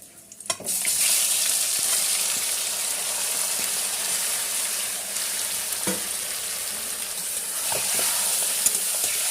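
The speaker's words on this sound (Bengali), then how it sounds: "চিকেনটা এবার আমি ভালো করে কষিয়ে নেব, ভাজা ভাজা করে নেব একদম।" Chicken sizzles hard in a pan with whole garam masala, bay leaf and cumin, loud and steady frying hiss right up close, broken by a few sharp stirring scrapes and clinks.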